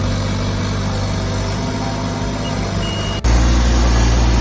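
A bobcat loader digging a pool hole at a house renovation runs as a loud, steady engine drone throughout. The engine note shifts sharply near the end, and no one speaks.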